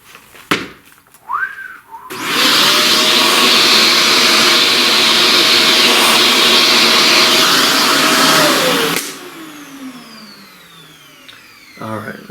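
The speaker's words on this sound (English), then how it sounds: "Let's vacuum that." A vacuum cleaner picking up pastel dust from a drawing switches on abruptly, runs as a loud, steady rushing whine for about seven seconds, then cuts off and winds down. No one speaks.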